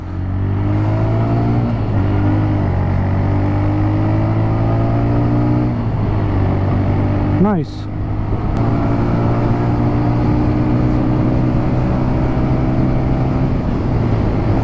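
A TVS Raider 125 cc BS6 motorcycle engine drones steadily while riding, with close engine tones that rise and fall as the rider shifts and accelerates, plus road and wind noise. A single word is spoken briefly partway through.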